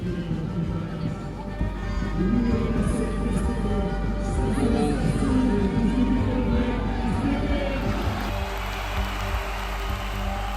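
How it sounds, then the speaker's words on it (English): Crowd roaring and cheering at a football match in Nigeria, a dense continuous wall of voices and chatter that stays loud and steady throughout. "While the crowd was celebrating"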